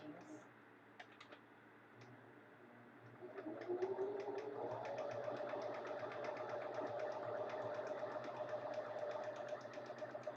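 A sewing machine stitches stocking linings. A few quiet clicks come first, then the motor starts with a rising hum and settles into a steady, close whir with light rapid tapping.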